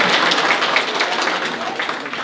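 Audience applause at a regional cooking contest in Van, Turkey, for a category winner: a dense, even burst of clapping from a crowd, close and loud for a couple of seconds.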